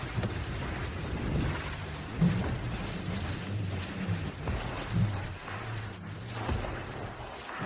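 Heavy rain pours in a dense, steady wash with a low rumbling undertone, holding at an even level throughout with a couple of slightly louder swells.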